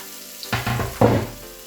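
Onions poured into hot oil in a pan for a gombo pistache stew, giving a short burst of frying with two or three soft sizzling surges, close and moderately loud, with no talking.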